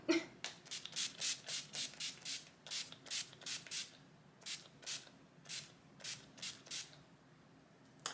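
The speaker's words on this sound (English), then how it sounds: "what I used to then set everything super down was my NYX Radiant Finish Setting Spray, and I doused myself" A setting spray bottle fires off a long run of quick hissing bursts onto a face, close by and steady, with a few brief pauses partway through.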